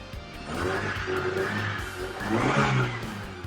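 A 1986 Honda Civic Si engine revs in two quick throttle stabs. The close, loud rasping surge rises and falls, then swells again near the end.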